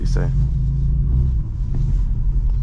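A BMW M4 idles parked by a curb outside, its engine giving a deep, steady low rumble that holds through the clip, fairly close and even.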